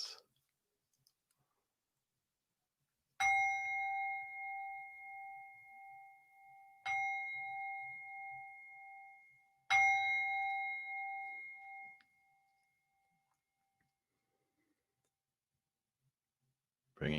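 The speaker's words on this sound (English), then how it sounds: "Listening out for the bells." Three clear meditation bell strikes spaced a few seconds apart, each ringing out with a long, slowly fading tone in an otherwise quiet space.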